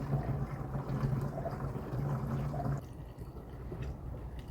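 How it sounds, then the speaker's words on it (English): Diesel fuel pours into the tank of an Hcalory 8kW all-in-one toolbox parking heater with a faint, steady liquid trickle that thins out and grows quieter partway through. "let's go ahead and fill her up with diesel."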